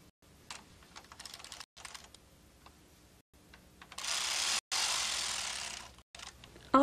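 A Bond Elite knitting machine carriage is pushed across the bed to knit a row, giving a rattling mechanical clatter that builds into a loud sustained whirring sweep, with short pauses between passes.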